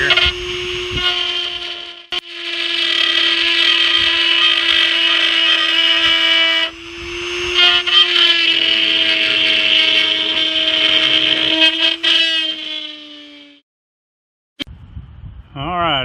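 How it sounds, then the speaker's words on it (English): A Dremel rotary tool with a small bit cuts out plumbing in an RV travel trailer, a loud sustained high whine that bogs briefly as it bites, runs steadily for about thirteen seconds and then winds down, with a short burst of handling noise after. "So I'll take a little Dremel tool, a little Dremel bit, and just cut that out."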